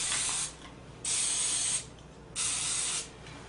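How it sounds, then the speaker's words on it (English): Three short hissing bursts of cooking oil spray into baking pans, close and steady, separated by brief quiet gaps. "some spray-on oil"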